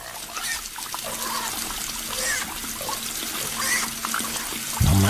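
Water trickles and dribbles in a thin, steady stream during a prank, fairly quiet and continuous, with a slightly stronger low splash near the end.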